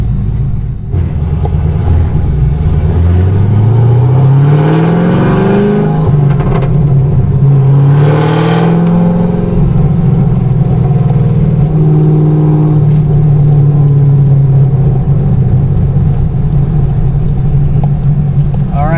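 A modified 940-horsepower Chevrolet Camaro ZL1 engine roars and revs hard, pitch climbing as it accelerates, then holding a loud, rumbling drone close by.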